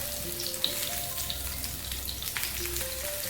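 Brinjal sautéing in hot oil in a pan, a steady soft sizzle and crackle heard close up, low and continuous with a few faint ticks and no voices.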